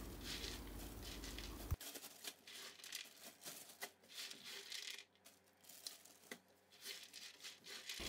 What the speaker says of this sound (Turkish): Soğuduktan sonra poşetlere pay edelim.